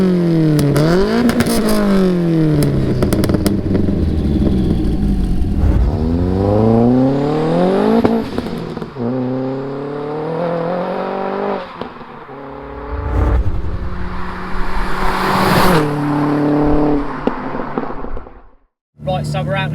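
A 525 bhp Renault Megane 225 accelerates hard with loud, rising engine sweeps that climb, drop at gear changes and climb again across repeated pulls, close and dominant, with a brief near-silent gap just before the end.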